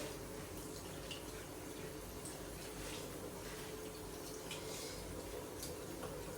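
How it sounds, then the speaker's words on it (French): Water running from a tap while something is rinsed during household cleaning with baking soda, a steady faint rushing stream with light splashes, no talking. "Là, je rince."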